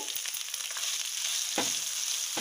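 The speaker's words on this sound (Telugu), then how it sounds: "1 స్పూన్ జీలకర్ర, కొంచెం కరివేపాకు ఇలా ఫ్రై అయిన తర్వాత కాకరకాయ ముక్కలు ఇందులో వేసుకోవాలి." Pieces of bitter gourd drop into hot oil with mustard seeds, cumin and curry leaves, sizzling steadily and loudly up close, with a brief stir or clatter partway through.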